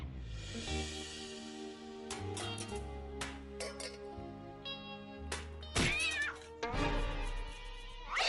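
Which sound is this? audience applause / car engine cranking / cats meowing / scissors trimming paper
cats meowing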